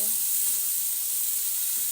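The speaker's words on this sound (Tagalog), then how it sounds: "Gisang-gisa lang natin." Tomato and chili sizzle steadily as they are sautéed in a pan with milkfish, a continuous close frying hiss with faint stirring.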